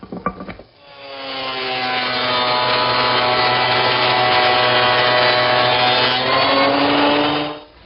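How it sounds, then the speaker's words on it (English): A surface planer feeding maple and mahogany boards, a loud sustained mechanical whine with a rising pitch that runs for several seconds after a brief clattery start, then cuts off. "one of the ways to do that is with a surface plane"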